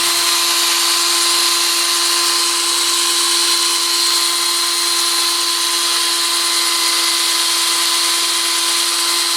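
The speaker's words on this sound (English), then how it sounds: "I'm just polishing the axles with a bit of alcohol." Toy tractor axles, rusty ones on a Crescent Toys Fordson Dexta, are polished with alcohol on a spinning tool, giving a continuous loud, even whirring hum that holds steady from start to finish with no talking.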